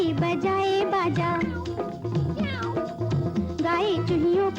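Meow-like cries appear within a 1958 Bollywood film song, woven through busy singing and orchestral accompaniment that play continuously at moderate loudness.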